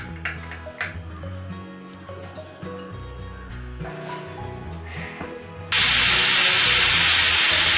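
A pressure cooker holding country chicken curry suddenly bursts into a loud, sustained whistle of hissing steam after several seconds of quiet kitchen clatter.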